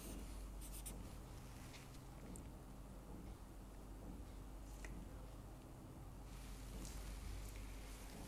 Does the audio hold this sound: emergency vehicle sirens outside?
no